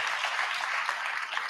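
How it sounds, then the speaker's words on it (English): A crowd applauds at a book tour event, with dense, steady clapping that continues for the whole moment without a break. "can we please give Dr. Andrea Douglas a round of applause?"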